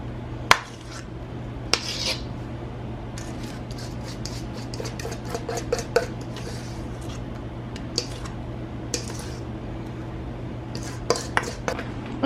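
Food is scooped and pressed into a loaf pan with scattered clinks and scrapes of utensil against cookware, quiet and intermittent over a low kitchen hum.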